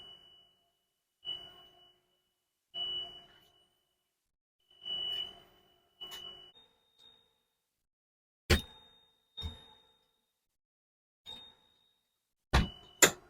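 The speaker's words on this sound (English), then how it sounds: "then open them and check the audio and visual alarm" School bus emergency exit window alarm sounding in short separate beeps and chimes, a series of bursts with gaps between, some sharp clicks and clangs near the end, no talking.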